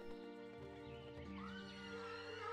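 Horse in the video game The Guild 3 letting out a neigh, a quavering whinny over a steady tonal game music bed, with a few soft hoof clops beneath.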